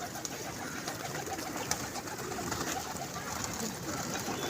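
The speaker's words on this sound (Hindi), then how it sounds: "यार एक कबूतर मैं दिखाता हूँ, ये नीचे उतरा है" Pigeons coo steadily at a pigeon club loft, the soft calls blending into a dense, continuous wash of nearby bird sounds with some background noise throughout.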